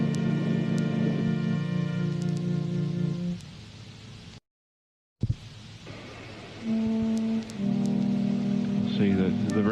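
Steady rain falling, a continuous hiss broken by a short silence, with sustained tonal music-like layers running alongside.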